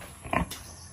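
A pig in its pen gives a single short grunting oink close by, brief and moderately loud, with no speech.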